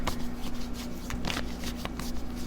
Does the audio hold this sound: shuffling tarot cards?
yes